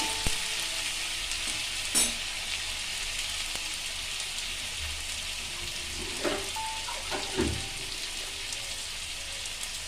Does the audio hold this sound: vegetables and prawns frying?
yes